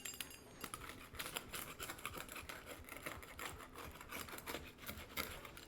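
A knife or cutter scrapes and crunches through a baked, crispy-edged pepperoni pizza, giving faint, close, irregular rasping and crackling strokes throughout, with no talking.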